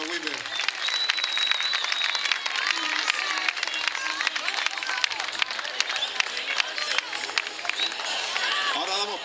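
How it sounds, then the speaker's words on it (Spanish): Applause from a crowd at the fifth San José Obrero romería pilgrimage festival in Cruce de Arinaga, a dense, continuous clapping over a busy outdoor hubbub, with a voice speaking over it. "Ese aplauso para esas personas que tanto han trabajado aquí en el municipio de Nahuime."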